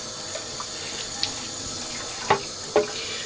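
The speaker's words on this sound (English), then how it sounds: "we'll put a little bit of water on here" Water applied to a Neo Geo AES controller shell during refurbishing: a low steady trickle with soft splashes and two brief louder drips near the end, close and without voices.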